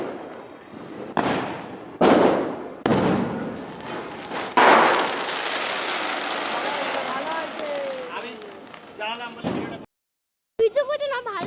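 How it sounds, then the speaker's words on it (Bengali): Diwali firecrackers burst outdoors in sharp, loud bangs, several spaced cracks followed by a crackling, fizzing stretch with whistling tones, then more pops after a short silence, with voices around. "দেখো কি বাজি ফাটছে।"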